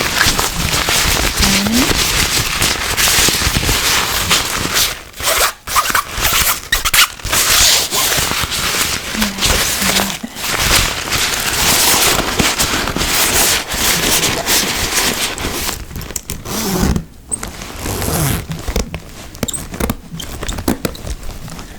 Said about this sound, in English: Sometimes these zippers glide very smoothly, and then for some reason they're stuck